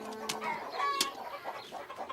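Cartoon hens clucking in short, scattered bursts, with a sharp squawk standing out midway, close and fairly loud.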